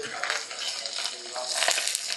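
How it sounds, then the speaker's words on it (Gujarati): Hot tempering oil with garlic sizzles and crackles up close in a pan, a bright, steady frying hiss with small pops. "હવે આ ગરમા ગરમ વઘાર છે ને આમાં નાખી દેવાનો છે"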